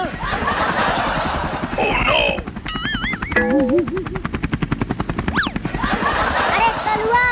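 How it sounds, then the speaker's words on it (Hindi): A cartoon helicopter flown by a donkey starts up with a rapid, rhythmic rotor chop in the middle stretch, surrounded by animated voices talking, laughter and whistling sound effects. "तुम्हारा गधू हेलीकॉप्टर को चालू कर दिया है"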